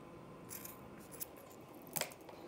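Scissors snip crochet yarn close up, two or three quiet cuts in a hushed room.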